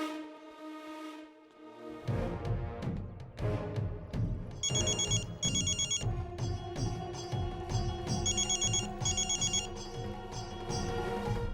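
A telephone rings in a Hindi-dubbed action movie scene, its repeated bright electronic trills sounding over a loud, driving music score. There is no talk.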